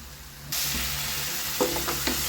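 Tomato puree and ketchup are stirred in a hot pan, giving a steady close sizzle that jumps louder partway through, with a few soft scraping strokes near the end.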